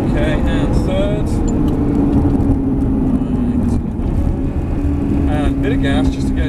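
A Ferrari 360 Spider engine revs loud and close through a sustained drive, its tone rising under acceleration in fifth gear before easing off as the brakes come on, with a voice talking over it.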